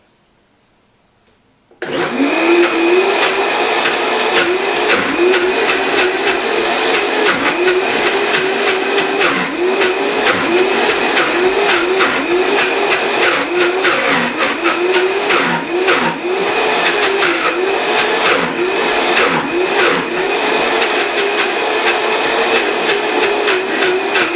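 A powerful Vitamix blender kicks on after a moment of quiet and runs loud and steady, a high whirring motor roar with slight pulsing changes in pitch.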